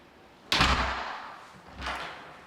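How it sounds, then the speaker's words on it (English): A fire-rated door on a self-closer swings shut with a sharp close thud, then a softer second knock about a second later as it settles, nearby in a quiet room. "the self-closer, as its name intends, is supposed to close the door when released"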